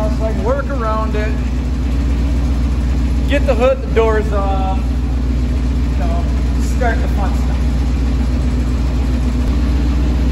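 An IH Loadstar grain-hauling truck's engine idles steadily and loudly close by while degreaser burns off it, a constant low drone under a man's speech.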